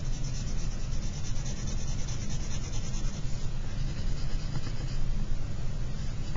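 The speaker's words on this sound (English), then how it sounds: "So I'm going to color this in." A marker or pencil colors in a number on a paper chart with continuous, steady scratchy rubbing strokes that sound close and last throughout, with no voices.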